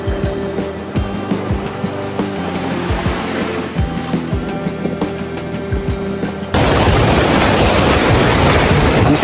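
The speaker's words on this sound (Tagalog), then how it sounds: "Yun o, lakas ng alon" Loud, continuous surf of heavy, high ocean waves crashing nearby, a broad roaring rush that swells even louder toward the end.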